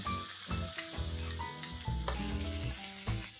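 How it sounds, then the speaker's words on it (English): Garlic paste sautés in a hot pan, with a steady soft sizzle broken by repeated scrapes and clinks of a spoon stirring against the metal, close and fairly quiet, with no voices. "Saute this till the raw smell goes off"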